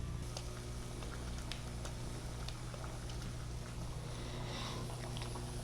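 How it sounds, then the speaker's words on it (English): Water at a full rolling boil in a pot on a 36-inch induction cooktop, a steady dense bubbling and patter with a low hum underneath, continuous and close. "That is a full boil, and that was right around 2 minutes."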